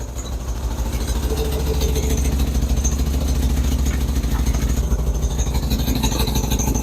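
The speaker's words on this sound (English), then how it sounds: "enjoy that massive exhaust leak" A 1961 Nash AMC Metropolitan barn find idles with a massive exhaust leak, giving a loud, steady, rough low rumble with rapid ticking pulses that runs unbroken throughout, close up and without talk.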